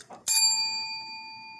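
A ritual hand bell gives one sharp strike, then a bright, clear ring that hangs and slowly fades, close and alone.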